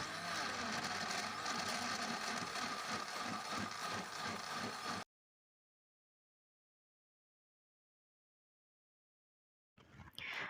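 A kitchen blender whirs loudly for a few seconds while chopping pineapple for nastar jam filling, then stops abruptly into silence before a short burst of sound at the very end.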